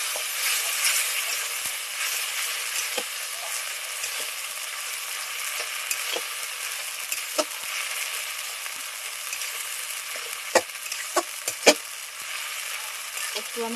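Ginger-garlic paste fries in a pan while being stirred, a continuous close sizzle broken by occasional sharp scrapes and knocks of the spoon that grow more frequent toward the end.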